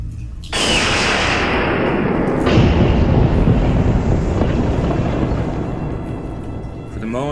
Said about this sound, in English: lightning breaking open the crypt, I used 2 different lightnings and stuck them together